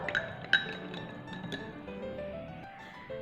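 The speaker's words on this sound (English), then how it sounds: "Now we are stirring it with spoon." A metal spoon stirs uncooked rice in a glass, giving light clinks and taps against the glass, a few sharper strikes standing out over a soft scraping swirl, close and fairly quiet.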